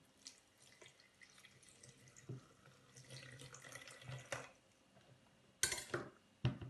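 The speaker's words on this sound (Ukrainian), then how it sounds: "Тепер заливаємо в цю бутилку наш розчин." Rooting solution for grapevine cuttings is poured into a bottle, making a faint, quiet trickle with small splashes and a few light clinks. Louder bursts of liquid come near the end.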